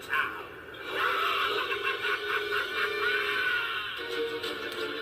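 A Joker-themed lightsaber with a Prizm soundboard and custom sound font powers up after waking from deep sleep mode, giving a rising electronic hum with chattering, laugh-like textures that holds steadily for several seconds.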